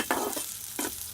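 Oil sizzles in a pan for a sambar tempering, with onions added, in two short bursts of frying and stirring. The sizzle is soft and close, with a quiet pause between the bursts.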